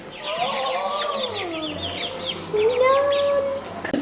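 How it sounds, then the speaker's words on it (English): Chickens cluck and warble close by, with a few drawn-out calls over quieter barnyard background. "They got baby chickens over here."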